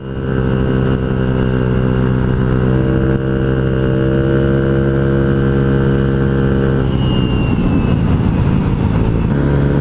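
A Honda Ruckus scooter's engine drones loudly and steadily up close, then roughens and rumbles as it rides off-road over uneven ground.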